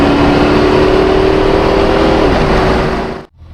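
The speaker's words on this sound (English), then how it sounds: "So we're going to do an acceleration test. Have a look how nice this car performs." A Corvette C4 convertible under hard acceleration with kick down, a loud steady engine roar with rising tone that holds, then shifts and cuts off abruptly near the end.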